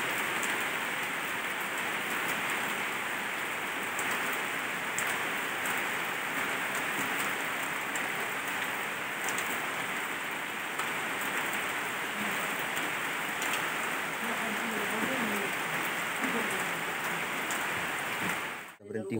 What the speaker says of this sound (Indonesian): Nah, hujan lagi hari.